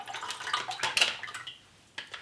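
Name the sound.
gravy packet liquid poured into a saucepan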